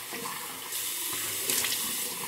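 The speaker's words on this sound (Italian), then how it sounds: "C'è acqua viva, acqua fredda" Cold water runs steadily from a tap during a wet shave, a broad continuous hiss that swells slightly louder midway, with no speech.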